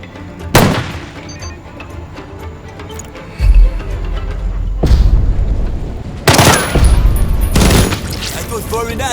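Heavy booms and bursts of gunfire in Jagged Alliance 3 combat, a grenade attack among them: a sharp shot early, then a deep blast and several loud impacts, with a voice speaking at times.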